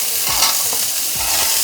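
Onion, beans, carrot and capsicum sizzle steadily in an oiled kadai on high flame for egg fried rice, with a spatula scraping and stirring through them in uneven strokes, close by and with no talking.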